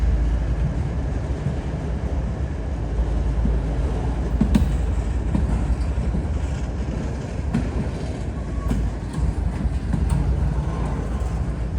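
A freight train rolls steadily past a railroad signal, its continuous low rumble and rail noise filling the scene at close range, with a few faint wheel clicks and no talk.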